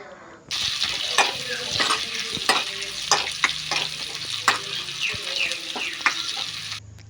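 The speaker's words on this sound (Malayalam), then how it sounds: "മൂപ്പിച്ചതിന് ശേഷം നമ്മുടെ നമ്മുടെ വറ്റൽമുളക് ഇട്ട് ഒന്ന് മൂപ്പിക്കണം." Dried red chillies frying in hot oil with shallots in a pan while preparing a Kerala mango pulissery seasoning, a steady close sizzle with scattered crackles and pops throughout.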